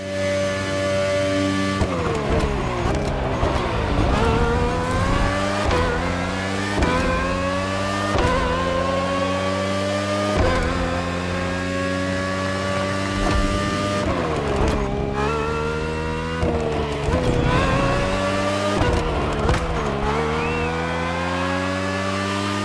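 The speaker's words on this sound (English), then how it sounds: "RB18 is the latest model with more aggressive aerodynamics and a powerful Honda engine." A Red Bull RB18 race car with a powerful Honda engine screams through repeated gear changes in The Crew Motorfest, loud, high-revving climbs dropping with each upshift, near and continuous.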